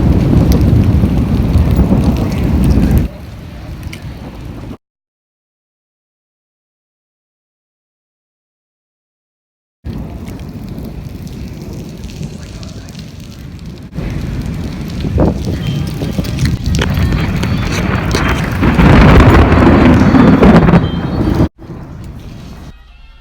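Heavy rain and wind pound a parked car during a tornado warning, a dense roaring wash that drops out completely for several seconds, then returns and builds louder toward the end.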